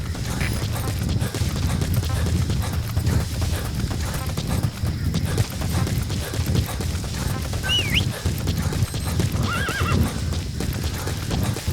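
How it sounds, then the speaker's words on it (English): Horse hooves clip-clop steadily at a brisk pace over a Metal Gear Solid V: The Phantom Pain game soundscape, with occasional whinnies rising above the rhythm. "Use your horse."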